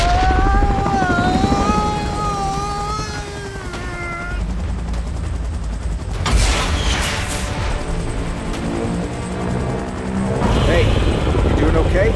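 Futuristic aircraft in a Kong and Godzilla video game map, a droning engine with whining tones mixed with game music and bursts of effects, loud and continuous throughout.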